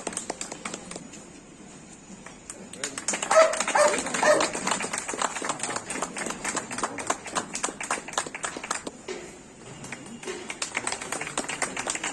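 A police dog-squad dog barks repeatedly in quick, rhythmic bursts, fairly close and loud, with light tapping in the background and no speech.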